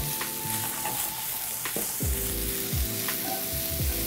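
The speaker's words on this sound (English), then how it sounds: "we're just going to give these a rough saute" Pancetta and chopped vegetables get a rough sauté in a pan, with a steady sizzle under scraping and tonal clanks of a utensil stirring against the metal.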